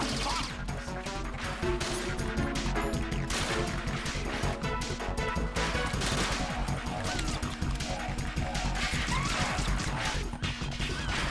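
Gunfire in the video game Metal Gear Solid 2, dense, rapid bursts of shots and impacts hammering continuously, loud and close, with a voice briefly underneath.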